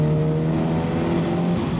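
A small Mini convertible's engine revs from mid to higher rpm with a throaty, raspy exhaust note, loud and steady throughout at close range with no talking.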